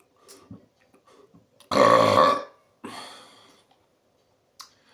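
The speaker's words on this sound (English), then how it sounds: "That felt more like an exhale type of burp where I just was trying to release everything" A single loud, drawn-out exhale-type burp from a congested person, followed by a softer, breathy second release and a few faint clicks, with quiet gaps around it.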